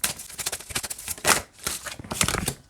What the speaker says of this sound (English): And it shuffles great this way too.